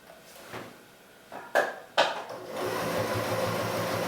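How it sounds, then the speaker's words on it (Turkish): A Janome MC 6700P electronic sewing machine gives a few sharp clicks and taps, then starts stitching in a rapid, steady, close mechanical whir through the final second and a half. "İleri geri tuşuna basıp sağlamlaştırıp dikişi bitiriyorum."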